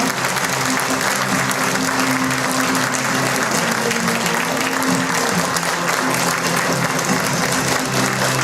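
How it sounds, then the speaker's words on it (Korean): Loud, dense applause fills a hall at a Rebuilding Korea Party members' rally in Sejong, clapping steadily and evenly from a large crowd throughout. "박수 부탁드립니다"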